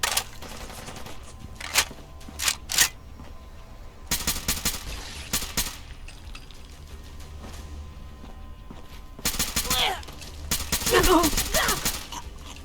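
Rapid bursts of gunfire in a Fallout London firefight, several loud volleys separated by short pauses, with the heaviest burst near the end and some talk mixed in.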